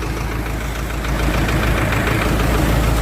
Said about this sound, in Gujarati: તો આપણે ટ્રેક્ટર ચાલુ કર્યું છે